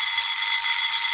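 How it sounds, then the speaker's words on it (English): A vintage mechanical alarm clock rings with a steady, loud, continuous bell clatter, bright and metallic, filling the whole moment without a pause. "I'm going to turn the alarm back on. So I'll show you the alarm does work."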